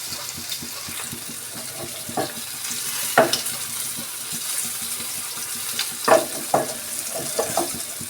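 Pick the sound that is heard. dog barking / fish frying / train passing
fish frying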